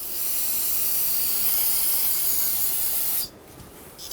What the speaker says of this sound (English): Using parts cleaner and a clean rag, we're going to spray the area and wipe away any of the brake fluid.